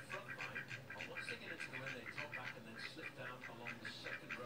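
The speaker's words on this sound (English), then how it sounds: "Ducks quack." Repeated quacking from ducks in a rapid, continuous chorus, mixed with voices talking.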